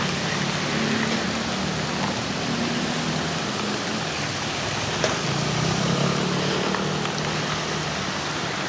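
Heavy rain pours down outdoors in a dense, steady hiss that fills the whole stretch loudly, with scattered sharper drops and no speech over it.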